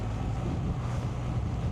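Steady wind roars against the microphone while travelling along a road on a long drive across Hungary, a constant low buffeting rumble with no voices.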